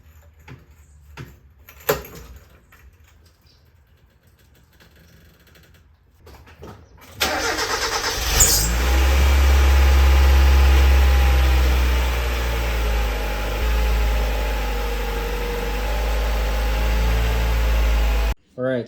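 A car with a Megasquirt3x-managed engine starts up after an oil fill and settles into a steady, loud idle that runs close by for over ten seconds, preceded by some quiet clunks and handling noises.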